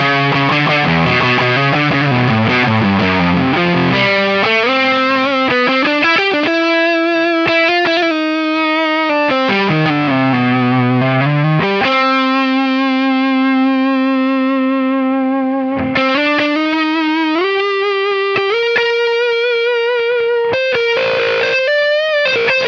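Electric guitar through PRS pedals with every control turned fully up, heavily effected with distortion, chorus and echo, sliding pitch bends and long sustained notes, loud and continuous.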